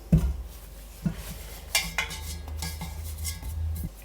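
Bread dough goes into a flour-dusted baking tin with soft thuds and metallic clinks and scrapes against the tin, close by and moderately loud, with no speech.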